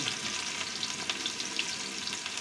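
Chopped onion fries in hot oil for a murshi curry, with a close, steady crackling sizzle and small pops throughout and no talk.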